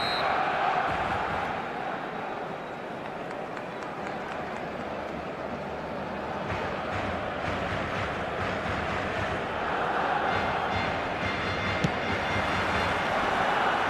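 A football stadium crowd of fans on match day fills the space with a continuous, dense roar that holds steady throughout.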